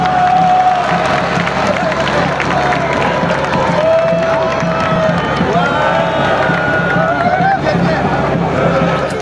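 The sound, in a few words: crowd applauding and cheering frantically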